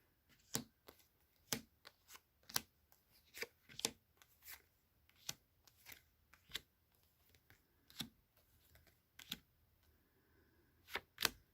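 Tarot cards are handled and sorted into piles, giving a series of quiet, crisp slaps and snaps at irregular intervals, each a short isolated tap against near silence.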